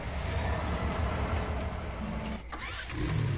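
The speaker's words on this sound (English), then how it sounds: "Our trains are also back in the game." A train in Farming Simulator 19 rumbles steadily with a continuous low engine drone and a mechanical hum, loud and close, with a brief dip partway through.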